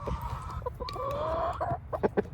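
Chickens cluck softly nearby in short, irregular bursts, with a few brief drawn-out squawks and light scattered pecking-like taps, all fairly quiet and without any talk.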